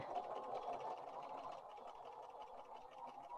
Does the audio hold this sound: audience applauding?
no